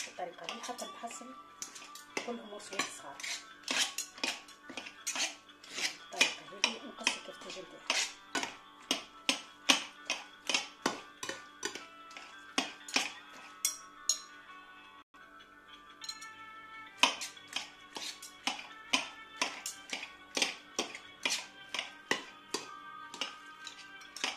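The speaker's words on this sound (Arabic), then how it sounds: "je prends deux couteaux on va commencer à couper" Two knives chop kefteji ingredients on a board in quick, rhythmic taps and clicks that continue steadily, with a brief pause midway.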